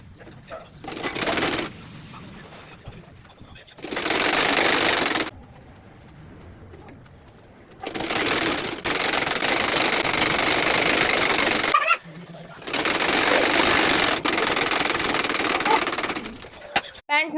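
A home sewing machine stitches school uniform pants in several short runs of fast, steady mechanical whirring, loud and close, separated by pauses with a quiet voice talking between them.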